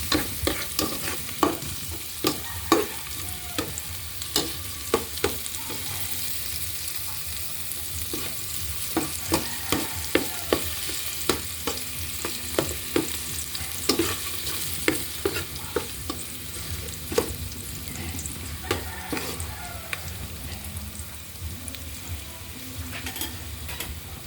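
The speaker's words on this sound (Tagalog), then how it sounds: "bawang lang muna. Pag mag golden brown na siya, saka naman ilagay ang sibuyas." Garlic frying in oil in a pan, a constant close sizzle with frequent scraping and stirring taps from a utensil throughout, no voices heard.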